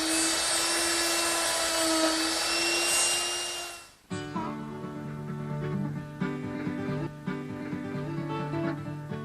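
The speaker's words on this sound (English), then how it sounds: "And I've put it in the router." A wood router fitted with a 1/4-inch Roman ogee bit whines at a steady high pitch, then drops into a lower, rougher cutting drone with small bumps as it chews through the wood, loud and close.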